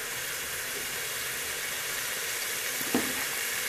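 Chickpeas frying in a hot pan give off a steady, even sizzle and hiss, with a single brief clink from the spoon or pan near the end.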